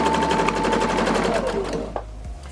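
Sewing machine stitching fabric while a pillowcase is sewn from a finished sheet: a rapid, steady mechanical chatter, close and loud, that slows and stops near the end, followed by a faint thump.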